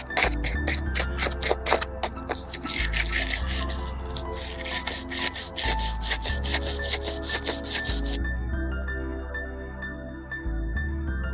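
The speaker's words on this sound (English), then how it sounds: "it's gonna need a bit of rubbing with the sandpaper" Sandpaper rubbing on a glued plastic part of a DIY trickle filter, steady rasping back-and-forth strokes close up, with a low rhythmic thumping repeating underneath and no speech.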